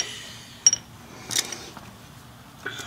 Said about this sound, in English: There we use a new cotter pin.